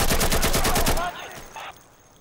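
Rapid automatic gunfire in the shooter game Insurgency: a close, loud burst of about ten evenly spaced shots in one second, then a short faint echo and a brief sound afterward.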